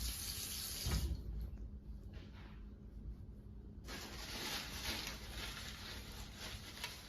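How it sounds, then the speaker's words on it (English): Tap water runs steadily into a sink as a child washes their face, a close, continuous splashing flow with a brief surge near the start and no talking. "show her how you wash your face."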